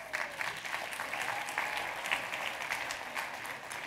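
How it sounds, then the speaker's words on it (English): Audience clapping steadily throughout, a continuous fairly distant patter of many hands at a business talk, moderately quiet with no voices over it. "Clap it up."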